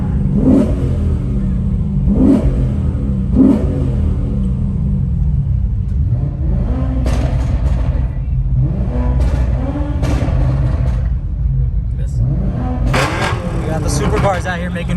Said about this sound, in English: Supercars out here making noise now. A couple of Huracans, McLarens, Aventadors.